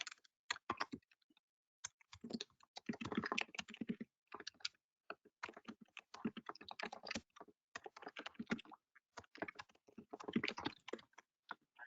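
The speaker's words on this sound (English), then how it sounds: "So I'm going to start typing for my students and tell them good morning." Fingers tap steadily across a computer keyboard in bursts of rapid keystrokes separated by short pauses, quiet and close with no voices.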